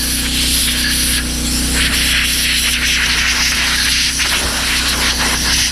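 A continuous aerosol brake cleaner spray hisses loudly and steadily for several seconds on 2008 Hyundai Accent front brake parts, close by, with a low hum underneath.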